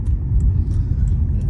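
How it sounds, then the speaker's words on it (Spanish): A 2002 Honda Accord with a cylinder misfire rumbles through the cabin on a test drive, giving a loud, steady low engine and road drone with faint clicks above it and no speech. "Vamos a someter el coche a pruebas de manejo"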